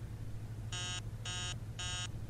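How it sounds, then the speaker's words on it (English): An alarm clock in the horror game Emily Wants to Play Too rings in three evenly spaced, shrill electronic beeps over a steady low hum. "Freaking alarm. Shut up. Yeah, turn it off. Alarm clock's so annoying."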